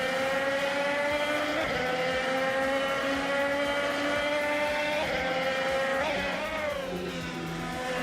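Honda IndyCar racing engines in a racing video game, a loud continuous high-pitched whine with steady harmonic tones that shift slightly as cars pass and change pace, filling the whole stretch without talk.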